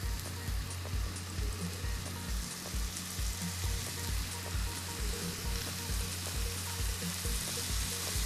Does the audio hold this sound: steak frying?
yes